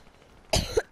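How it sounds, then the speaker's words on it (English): A single sharp cough bursts out after a quiet moment, followed quickly by a second short cough, close and loud. "Sorry about my cough, guys."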